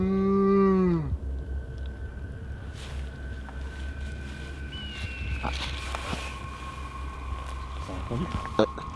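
A cow gives one long, loud, low moo that falls in pitch over the first second. Then a quiet outdoor country ambience follows, with faint shuffling and scattered small noises, during a night-time outing.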